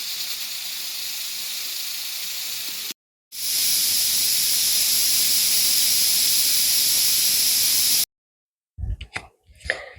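A pressure cooker cooking dal khichdi vents a loud, continuous steam hiss. The hiss breaks off briefly, resumes, then stops abruptly, and a few quiet knocks follow.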